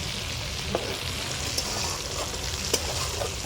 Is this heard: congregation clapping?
no